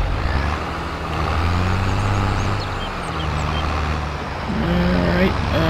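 A truck backing up a trailer in Farming Simulator 22 gives a steady, low engine drone with a faint hiss. The rumble holds level throughout and swells slightly toward the end.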